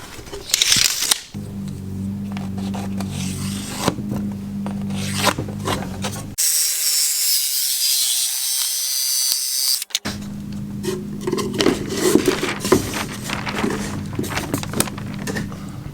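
Wood for the walls of a camper van conversion is cut with a hand tool, giving a steady rasping, scraping rhythm close by. It stops for a few seconds in a quieter stretch, then resumes.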